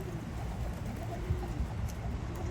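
Racing pigeons coo softly and continuously in a loft, a low muffled murmur of several birds close by with no one talking.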